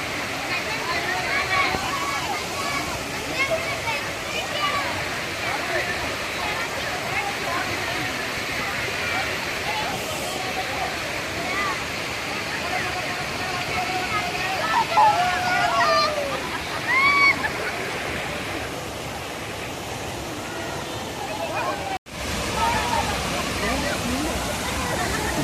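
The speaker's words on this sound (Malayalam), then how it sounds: "ഇതാണ് ആ വെള്ളച്ചാട്ടം." A hidden forest waterfall near Athirappilly at Pillappara roars as a constant broad wash of falling water, close and steady throughout, with people talking and chattering over it.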